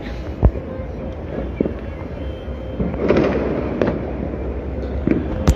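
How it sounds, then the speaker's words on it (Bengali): New Year's Eve fireworks and firecrackers over Dhaka pop and bang in scattered sharp bursts against a constant crowd-like rumble, some reports nearer and louder, others distant. "এত শত ফানুষ এবং আতশবাজি কিন্তু আমরা রাজধানীর বিভিন্ন পয়েন্ট থেকে লক্ষ্য করছি"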